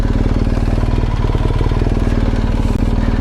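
A motorcycle engine while riding, a loud close continuous rhythmic throb with a rapid steady firing pulse and no pauses.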